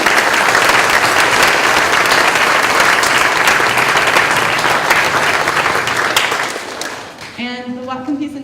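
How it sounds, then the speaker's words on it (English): A room of people at Bellingham's International Day of Peace event claps loudly and steadily for the volunteers, a dense round of applause that tapers off near the end as a voice begins speaking. "So can we give a round of applause really quick for the volunteers?"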